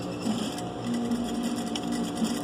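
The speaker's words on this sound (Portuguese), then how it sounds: "Posiciono direitinho e eu vou fazer a costura." A sewing machine runs steadily, stitching a seam through two fabric pieces placed right side to right side. It is a close, continuous mechanical whir with a fine rapid needle rhythm and no pauses or talking.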